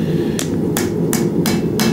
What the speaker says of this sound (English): Now you can hear that metal on metal.